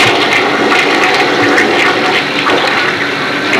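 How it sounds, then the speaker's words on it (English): A household toilet flushes in a 1980s home, a loud continuous rush of swirling water running steadily close by. "Flush the toilet. Flush the toilet."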